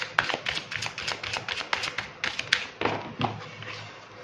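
Tarot cards drawn from a second deck, a quick run of soft, light taps and flicks of card on card, close and fairly steady in rhythm.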